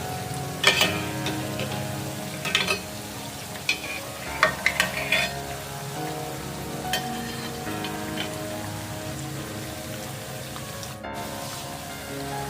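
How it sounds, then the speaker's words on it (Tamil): Beetroot vadas fry in hot oil over a medium flame, a continuous bubbling crackle with sharp spatula clinks and stirring scrapes scattered across it, close and moderately loud. "எண்ணெயோட சலசலப்பு உங்களுக்கு நல்ல மொதுன்னு வந்தால் உங்களுக்கு நல்ல டேஸ்ட்டாக இருக்கும் வடை"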